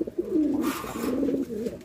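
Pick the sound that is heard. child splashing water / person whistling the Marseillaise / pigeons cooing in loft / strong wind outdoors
pigeons cooing in loft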